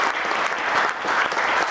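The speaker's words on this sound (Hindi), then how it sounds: "तालियों से स्वागत करें एक युवा निर्देशक" Steady, dense applause from a theatre audience welcoming a young director on stage at a play performance, a continuous crowd of clapping hands filling the whole moment with no voices over it.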